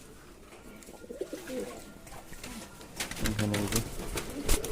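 White owl fancy pigeons cooing in a loft, soft repeated coos near and clear, mixed with brief wing rustles, while someone speaks over them.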